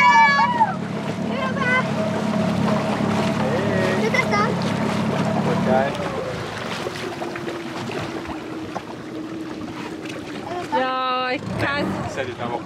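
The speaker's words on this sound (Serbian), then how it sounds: "Ne računam ove veće brodove, nego ovako baš u čamcu." A small rowboat moves across open water, with steady wash and splashing against the hull and wind noise, while people talk over it throughout.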